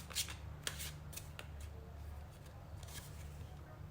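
Tarot cards being shuffled and riffled, a run of crisp papery flutters and snaps at an even pace, close by and moderately quiet over a low steady room hum.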